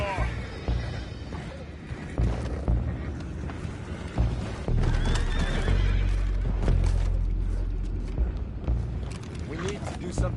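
In the video game Red Dead Redemption 2, horses whinny loudly amid rumbling, clattering hooves and crashing commotion, with people talking over the chaotic scene.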